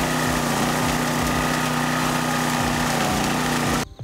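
A wing mower's engine runs steadily while cutting grass with the deck set at its highest height. The tone is constant, loud and close, with no talk, and it cuts out abruptly at the very end.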